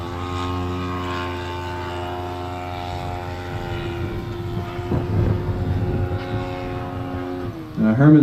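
Rotary engine of a Fokker Dr.1 triplane running steadily while the plane taxis down a runway, a droning tonal hum heard from a distance with a sharper burst at the end.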